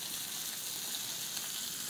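Red and white onions with apples sautéing in a hot pan, an even, close crackling sizzle that holds steady without pause.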